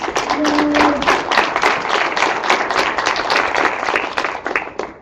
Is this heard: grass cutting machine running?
no